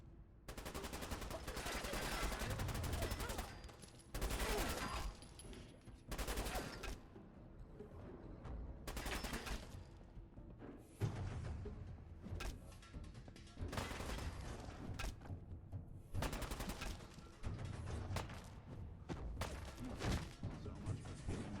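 Gunfire in Fallout 4, with repeated loud bursts of shots and automatic fire spread across the whole stretch, plus crashes and mechanical clatter between volleys.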